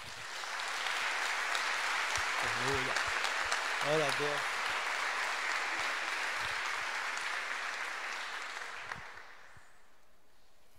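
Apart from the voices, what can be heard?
congregation applause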